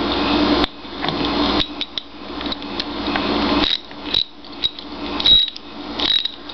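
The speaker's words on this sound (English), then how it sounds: "So we're going to screw this all back together." Small metal parts of a lawn mower carburetor being screwed back together, the float bowl refitted; close, dry clicks, taps and scrapes come in irregular bursts against a faint steady background hiss.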